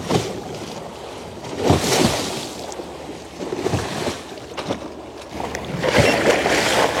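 Waves slosh and splash against a small fishing boat on a river, with irregular surges of water noise over a steady wind-like rush. The splashes are fairly close and there is no talk.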